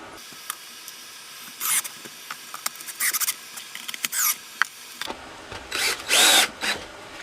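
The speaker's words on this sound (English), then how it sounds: "you screw that into place" Power drill driving screws to fasten a plywood board onto a sand-filled casting mold, heard as a series of short close whirring bursts with pauses between, the last few longer and louder.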